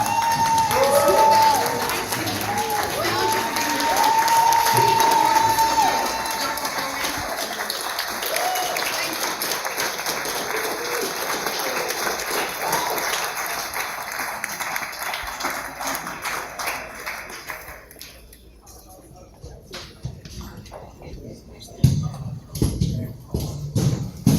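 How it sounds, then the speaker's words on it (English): A large seated crowd at an awards ceremony honoring courageous champions breaks into sustained applause with some cheering that fills the room, then thins out and fades, leaving scattered claps and shuffling near the end. "One more round of applause for all"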